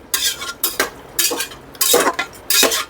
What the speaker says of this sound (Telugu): ఇది ఒకసారి బాగా కలిపేసుకునేసి మూత పెట్టేసి